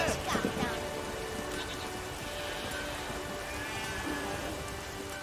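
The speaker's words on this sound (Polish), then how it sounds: "nie ma co stać na deszczu" Steady rain pours down in The Witcher 3, a continuous hissing patter on surfaces with a low rumble underneath and a brief sharper sound near the start.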